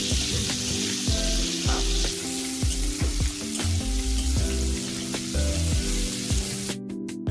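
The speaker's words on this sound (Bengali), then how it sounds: "প্রথমেই দিয়ে দেব জিরে, পেঁয়াজ, সাথে কাঁচা লঙ্কা দিয়ে এগুলো কিন্তু ভালোভাবে ভেজে নেব।" Cumin, onion and green chilli fry in a pan with a steady, loud sizzle, broken by several stirring scrapes, and no voices are heard.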